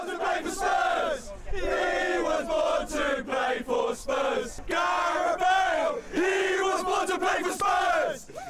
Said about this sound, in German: Neben tosendem Applaus feiern die Fans die Rückkehr ihres verlorenen Sohnes mit zahlreichen Gesängen.